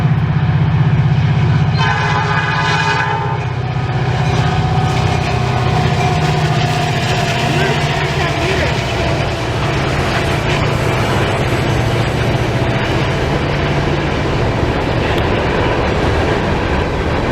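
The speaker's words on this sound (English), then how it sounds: "this was a work train led by an EMD SD40-2" An EMD SD40-2 diesel locomotive leading a work train rumbles past with a loud, steady engine roar and rattling cars, its horn sounding briefly near the start.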